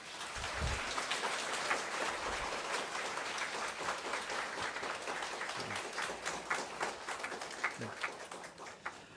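A church congregation claps to welcome a priest forward at his feast-day celebration, the clapping rough and crackly like patter, continuing steadily with a few low thumps and some faint voices underneath.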